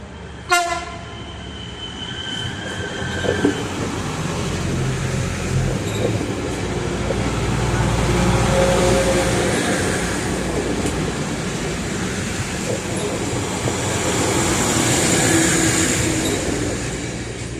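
A train rumbles steadily past up close at Selçuk station in Turkey, its horn sounding briefly at the start, wheels and cars roaring continuously with occasional squeals.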